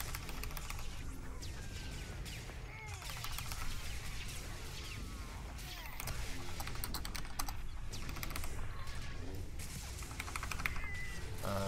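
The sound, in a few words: typing on computer keyboard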